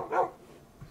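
A dog barks in the Minecraft Java game: one short bark near the start, then fainter yips and whimpers trailing off.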